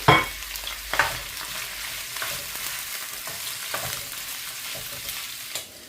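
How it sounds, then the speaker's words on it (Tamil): Cut sausages deep frying in hot oil for a Sri Lankan-style egg noodles dish, a loud continuous crackling sizzle with a sharp burst at the start and scattered pops and spatters throughout, close up and without talk. "அப்படி இதை இதில் போட்டு நல்லா பொரிச்சு எடுத்துக்கொள்ளுவோம்."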